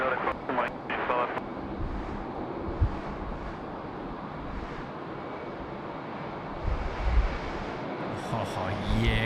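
An airliner climbs steeply after takeoff from Sydney Airport, its engine roar a sustained wash mixed with wind buffeting the microphone, while people talk and a radio voice comes through over it.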